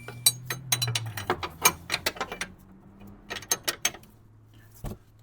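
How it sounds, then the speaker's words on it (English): Ratchet wrench being worked on an 18 mm nut, giving a series of sharp, close ratcheting clicks in irregular bursts, with short pauses between strokes and a low hum underneath. "So put a wrench on the nut."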